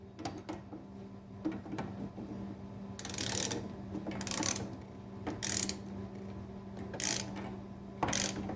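Ratchet clicking in several short bursts while tightening a bolt on a Top-O-Matic during repair, close but fairly quiet over a steady background hum, with no talk.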